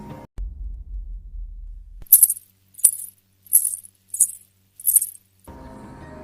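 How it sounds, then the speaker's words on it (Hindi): Anklet bells jingle in five short, evenly spaced bursts of bright metallic tinkling, each clear and separate against near silence after a low rumble fades out. "उन सबको बाहर से पायल की आवाजें आती"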